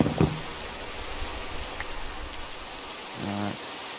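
Rain falling in the video game Minecraft, a faint steady patter with low rumble, broken by a short tonal blip near the start and a brief buzzy tone near the end, no voices.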